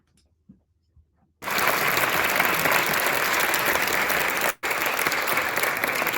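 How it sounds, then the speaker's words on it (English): After a second of near silence, a large audience bursts into sustained, even applause for a pageant contestant, holding steady for several seconds with one brief cut. "So round of applause to Miss Ivy Drip."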